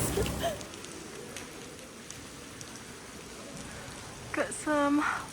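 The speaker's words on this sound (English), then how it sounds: "Got some lovely rainy weather" Steady, soft rain patters in the background near caves and temples outside Kuala Lumpur, with a brief voice near the end.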